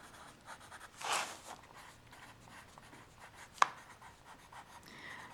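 White wax is scratched across paper as a watercolor resist, producing faint, close rubbing strokes with brief pauses and one sharp tap.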